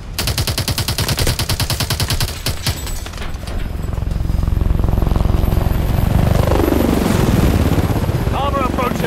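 Military helicopter in the shooter game Call of Duty Advanced Warfare, its rotor thumping loud and close and building to a steady roar, with bursts of automatic gunfire early on and voices talking over it.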